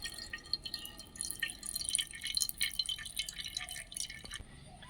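Papaya juice drips steadily through a small kitchen strainer in a quiet home kitchen, a continuous patter of small drops, close and moderately soft, with no talk.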